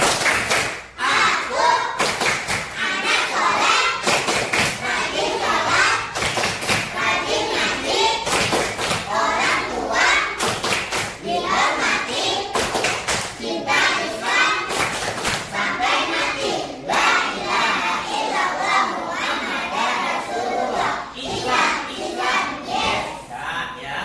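Children in an Indonesian classroom perform the tepuk anak soleh clapping chant, sharp rhythmic claps in patterned bursts interleaved with group chanting voices, close and lively, running throughout.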